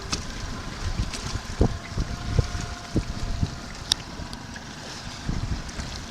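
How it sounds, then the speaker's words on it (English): Small outboard motor on a dinghy idling outdoors, a low uneven putter under wind noise and water sounds, with scattered knocks and taps and no talking. "Look at that, idling like a kitten."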